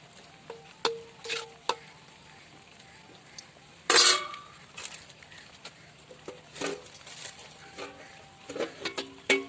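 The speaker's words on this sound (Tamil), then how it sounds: "மூடி வச்சிடலாம்" A lid set onto a cooking pot of village-style country chicken curry, a single loud metallic clank standing out among lighter clinks of utensils and dishes in a quiet kitchen.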